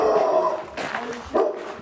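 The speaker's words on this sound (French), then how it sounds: "C'est un gros chien, il m'a déjà mordu." A large German shepherd cross barks a few times close by, the sharp bursts spaced out over a low background.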